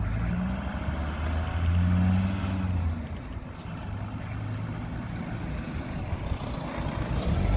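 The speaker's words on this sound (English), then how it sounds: "A car went so fast down there then that it literally, like on the roundabout, it didn't even stop" A car speeds past a roundabout, a steady fairly loud road and engine roar with no voices over it.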